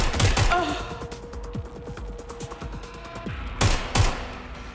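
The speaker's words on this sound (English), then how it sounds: "Someone's shooting. I'm taking fire!" Gunfire in the video game Watch Dogs: Legion: bursts of rapid shots at the start and again near the end, with scattered thuds between and a character's voice speaking under the action.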